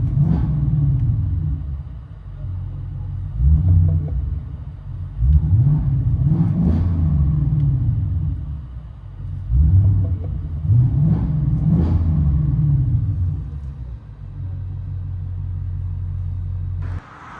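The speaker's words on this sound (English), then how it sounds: "50 Mustang GT. Valves closed." A 2024 Ford Mustang GT with a 5.0L V8 and Valvetronic Designs mufflers, exhaust valves closed, rumbles loud and close through three rev cycles, each building then falling back to a steady idle between pulls.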